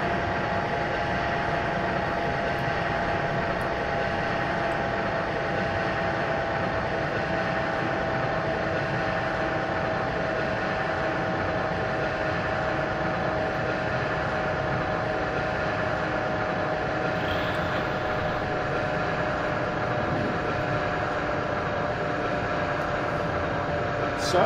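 A DB train runs along the Strasbourg–Karlsruhe route in Train Simulator, giving a steady, loud rumble with faint tonal hums that holds unchanged throughout.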